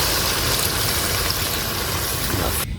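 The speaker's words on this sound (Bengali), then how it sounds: "এবার পানি দিয়ে দেবো।" Water poured steadily into a pot of cooked meat curry, a loud, close, continuous rushing splash that cuts off abruptly just before the end.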